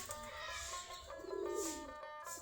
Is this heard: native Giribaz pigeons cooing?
yes